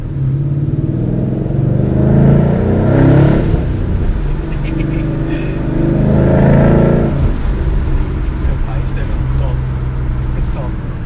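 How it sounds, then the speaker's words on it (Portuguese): A Ford Mustang GT with a 5.0 V8 accelerates on the autobahn, its deep engine rumble swelling in two strong surges heard from inside the cabin, with voices talking over it. "está na hora é de darmos gás na autobahn"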